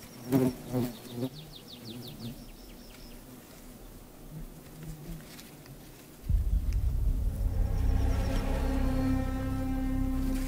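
Wild willow colletes bees buzz around their ground nest colony, with faint scattered insect hums and bird chirps at first, then a louder, steady close drone of wings in the second half.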